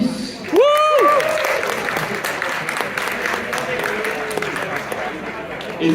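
Audience applause at the Vanguard Worlds 2022 card game tournament, opening with a loud whooping shout and continuing as steady clapping mixed with crowd voices.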